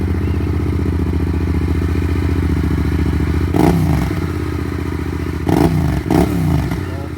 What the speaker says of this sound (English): It's a Delkevic exhaust baffle in on the Tenere 700.